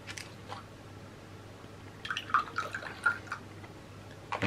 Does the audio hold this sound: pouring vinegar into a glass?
yes